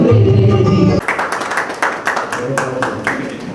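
Applause from a crowd at a Christmas celebration at a bishop's house, a busy patter of claps that follows a short stretch of music and continues steadily at close range.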